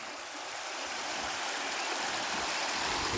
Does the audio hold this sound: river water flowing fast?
yes